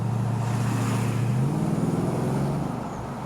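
Steady low engine drone of a 1993 Ford Mustang 5.0 V8 cruising at 60 mph around 1,500 RPM, heard from inside the car with even road noise and a slight pitch shift partway through.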